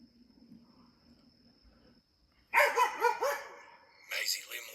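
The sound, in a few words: dog Maisie barking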